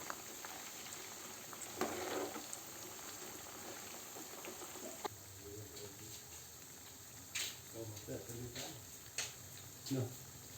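Peanuts frying and being stirred in a pan for Filipino adobong mani, a quiet scraping and sizzle with occasional clinks of the utensil, with bits of talk over it.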